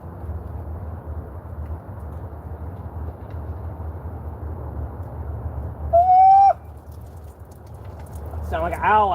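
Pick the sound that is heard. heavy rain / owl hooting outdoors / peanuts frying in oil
owl hooting outdoors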